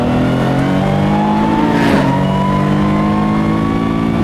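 A 800bhp Ford GT Mk IV supercar on new slicks accelerates hard around an empty old-school racetrack. Its engine is loud and close, with a continuous rising roar that swells briefly near the middle.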